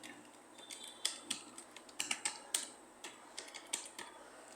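Fairly quiet typing on a computer keyboard, irregular clusters of light key clicks with short pauses between bursts, over a faint background hum.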